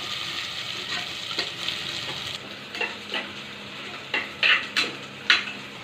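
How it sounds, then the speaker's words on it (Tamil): Carrots, beans and green chillies sauté in a pan with a steady sizzle, while a utensil clacks and scrapes against it in irregular strokes, close by. "கேரட்டு, பீன்ஸு, 2 பச்சை மிளகாய் எல்லாம் போட்டு லைட்டாக வதக்கிடலாம்."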